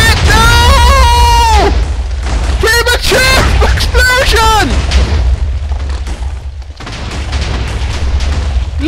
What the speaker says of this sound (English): Look at it exploding all the way!